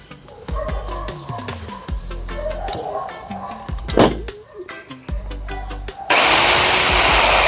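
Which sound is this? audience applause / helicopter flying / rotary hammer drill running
rotary hammer drill running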